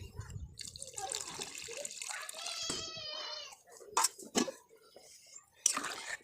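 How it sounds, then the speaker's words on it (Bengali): Water is poured into a cooking pot of live fish being cooked with oil and turmeric, giving splashing, trickling and dripping sounds close by, with a few sharper splashes toward the end and a voice speaking early on. "আর আরেকটু দেবো জল"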